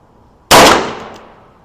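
A single sharp, loud gunshot from a Taurus 692 3-inch revolver firing a .38 Special +P cartridge, close by, with a ringing decay and no talk.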